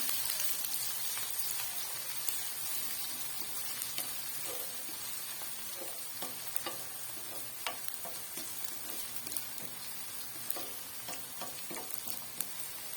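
Chopped ginger and garlic with browned onions frying in hot oil in a pan for Pakistani daal mash: a close, continuous crackling sizzle with scattered pops and the scrape of stirring, with no talk.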